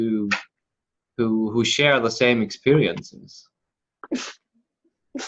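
A single short sneeze from a child, heard after someone speaks, followed by quieter clicks and small sounds in a quiet indoor room.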